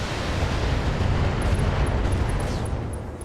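Missiles slamming into a mech in BattleTech, a dense roaring burst of explosive rumble that washes over the whole moment, with faint sharp ticks near the end.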